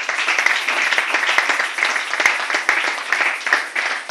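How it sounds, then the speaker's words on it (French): Church congregation applauding, a loud, sustained wash of many hands clapping close up, with a few sharper individual claps standing out, and no talk over it. "On acclame pour la parole du Seigneur"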